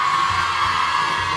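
Audience applause and cheering at the Festival Montereau Confluences 2017 roar steadily throughout, a dense, loud wash of clapping and crowd noise with no pauses.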